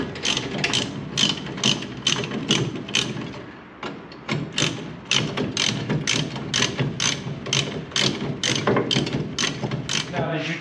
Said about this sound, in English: You got a big ratchet?